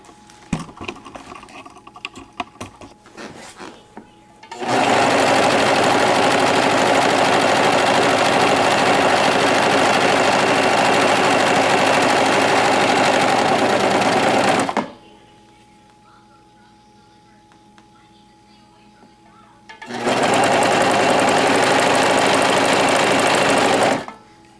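A Singer Professional 5 serger stitches a 3-thread overlock in two loud, steady bursts, a long run of about ten seconds and a shorter one after a pause, with a dense, even mechanical whir.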